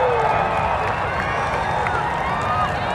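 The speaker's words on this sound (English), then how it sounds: "You hear the crowd. Everybody's excited." Stadium crowd of about 10,000 fans at Saluki Stadium in Carbondale, Illinois, during a solar eclipse, a steady loud roar of cheering and excited voices filling the whole stretch without a break.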